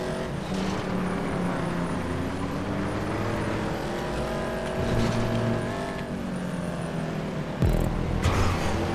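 A race car engine drones on and shifts pitch during a stunt race in GTA 5 Online, a steady close motor hum that rises and falls, with a sharp knock near the end.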